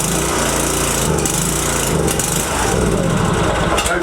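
A pressure washer's small petrol engine fires up on its first start and runs loud and steady, its dense buzzing drone filling the whole stretch without a break.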